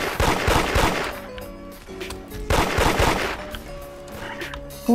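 Rapid bursts of gunfire in the Roblox game Da Hood fire in two loud clusters of close, sharp shots, separated by a brief lull, with no talking over them.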